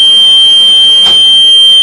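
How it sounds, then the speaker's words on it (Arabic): A 2024-model Egyptian-made BGA rework machine sounds its overload alarm for excess board heating: a loud, continuous, high-pitched electronic tone that holds steady without pulsing. "بيبدا الانذار ده شغال معاك لحد البورده ما ترجع لدرجه الامان بتاعتها"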